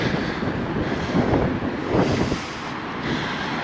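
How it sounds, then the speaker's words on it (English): Gusty wind buffets the microphone outdoors in Palmanova, Mallorca, producing a loud, broadband rumbling roar that swells in bursts and then eases slightly. "windy."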